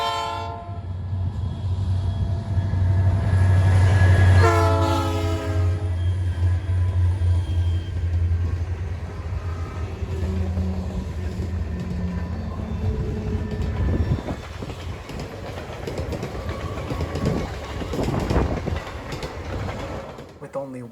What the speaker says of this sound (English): we got a running speed shot of the train doing about 40 miles an hour